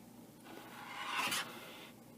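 A rope is pulled tight into two half hitches, giving one short rasping rub that swells over about a second and then stops, close and quiet with no talk.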